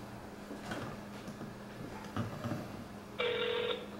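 A telephone call to the Microsoft Product Activation Center line for Windows 7: faint handling clicks and low hum, then a single clear ringback tone of about half a second near the end.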